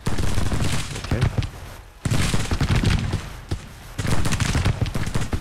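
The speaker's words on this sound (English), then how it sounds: "Alright, so these guns finally get some shots in here at the end." Civil War artillery and musketry in the strategy game Grand Tactician, a dense fusillade of overlapping gunshots and booms rolling continuously, loud and close, with a brief dip before the firing resumes.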